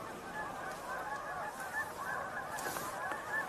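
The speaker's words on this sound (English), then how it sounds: "Sounds like more geese coming in" Geese honk repeatedly at a moderate distance, with overlapping calls from a flock coming in, set against steady outdoor background noise during a bird tour.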